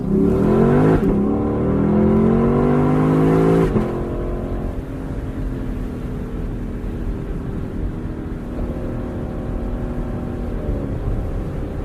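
A 2021 Lexus LC 500 Convertible engine revs hard with rising harmonic tones, then drops to a steady, loud drone that holds through the rest, no voices.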